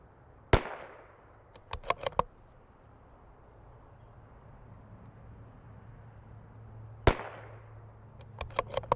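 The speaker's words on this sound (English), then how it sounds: "We can still shoot for a group here." A .22LR CZ 457 precision rifle fires outdoors: a sharp crack followed by three quicker shots, then a long pause and another shot with a few more after, each short and distinct over a quiet background.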